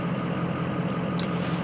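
Cabin drone of a 2004 Ford F-350 with the 6.0L diesel, running rough, cruising on a highway: a steady low engine and road rumble, fairly quiet and constant, with no talk.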